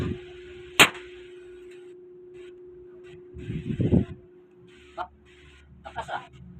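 Sharp metallic strikes drive Lazada-bought nails into steel: one loud clang early, then a cluster of muffled thuds and a few lighter taps, separated by quiet gaps over a faint steady hum.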